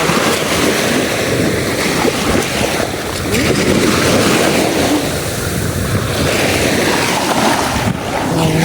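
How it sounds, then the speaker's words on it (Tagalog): Rough sea waves roll in at Santa Fe beach on Bantayan Island on a cloudy day, a loud continuous wash of surf mixed with wind buffeting the microphone, with no voices. "Maalon siya, ma-wave. Medyo ma-wave ang tubig."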